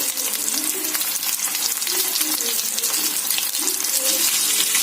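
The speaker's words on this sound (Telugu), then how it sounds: "చూడండి, వేగుతున్నాయి కదా, బాగా ఇలా రోస్ట్ చేసుకోవాలి." Fish roasting in a pan for a homemade fish fry, giving a steady loud crackling sizzle with dense popping throughout, no voices present.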